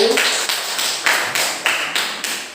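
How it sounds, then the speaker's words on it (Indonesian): Students in a classroom clap their hands in a quick rhythmic pattern, a series of sharp, evenly spaced claps in short bursts, close and clear with no talking. "Ya, tepuk tangan dan Dayu."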